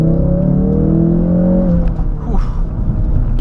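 A 2016 Ford Focus RS engine gives a loud close induction roar from inside the car, a steady droning tone that climbs and then drops off into a rough whir.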